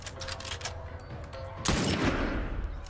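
Gunfire in The Last of Us video game sounds as a sharp, loud shot about midway, preceded by faint clicks and muffled shots, then followed by a lingering noisy tail.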